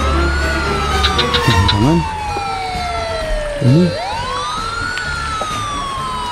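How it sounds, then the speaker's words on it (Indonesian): A loud wailing siren sweeps up and down in long glides, with brief speech over it and background noise throughout. "Kok ada suara sirine ya?"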